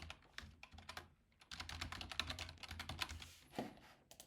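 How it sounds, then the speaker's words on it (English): Typing on a computer keyboard while entering candidate details into an online voting system: rapid, quiet clicking keystrokes in irregular bursts, close up and alone with no talking. "You could then type in the information about them"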